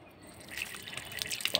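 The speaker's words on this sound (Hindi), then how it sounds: "ये हाथ धोने के लिए पानी" Water runs for hand washing at the Gupteshwar Mahadev temple, a faint close trickle that builds into brighter drips and splashes over a short stretch, with no voices.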